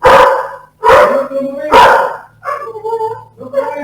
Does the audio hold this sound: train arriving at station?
no